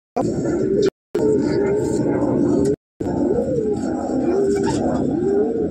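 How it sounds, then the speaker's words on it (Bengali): A male Suleman Kagzi pigeon coos in repeated low rolling phrases, close and fairly loud, broken by two brief cuts, while someone talks over it. "সুলেমান কাগজি পায়রা, নর পায়রা এটা"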